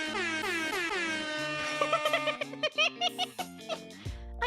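An air horn blasts in rapid bursts, long rising toots at first, then a quick choppy stuttering pattern of short honks, loud and close.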